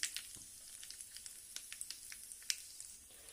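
Cumin, mustard seeds and two chillies crackle and sizzle in hot oil, a tempering for South Indian sambhar, with sharp, scattered pops over a steady frying hiss, fairly faint and with no talk.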